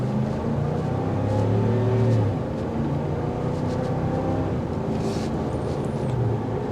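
A 2024 Ram 1500 Rebel pickup accelerates on a test drive, its engine a steady, rising drone under continuous road and tire rumble, with no voices over it.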